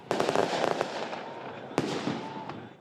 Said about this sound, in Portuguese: Quando os dois desceram dos carros, os manifestantes soltaram fogos de artifício.